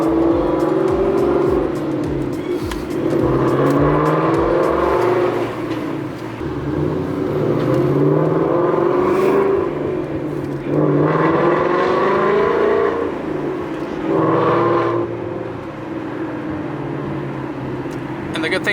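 A Ford Mustang fitted with hub-centric wheel spacers drives on a test drive, its engine rising and falling through gears from inside the car while a person talks over it.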